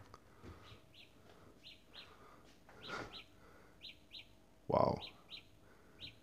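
A Samsung Galaxy Buds find-earbuds alert plays from a phone, a series of faint, short, bird-like chirps repeating in pairs and groups, with a brief louder burst near the end and a voice speaking once.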